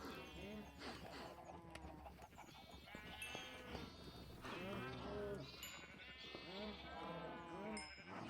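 Minecraft sheep, including lambs, bleat repeatedly in a video game, with several wavering, overlapping cries following one another over a steady background.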